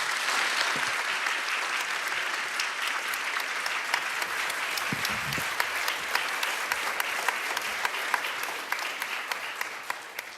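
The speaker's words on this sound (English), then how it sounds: "please join me in a round of applause to this excellent panel" A full audience claps for a forum panel on the idea of Europe, dense and sustained for about ten seconds with individual claps standing out near the end, no voices over it.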